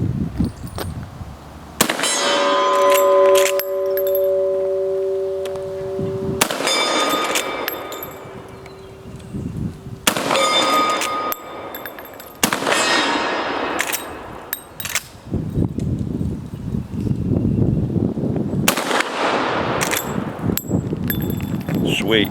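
A Marlin 45-70 guide gun loaded with 405-grain rounds fires several loud, sharp shots outdoors, each blast followed by a ringing decay, spaced a few seconds apart, with brief speech between.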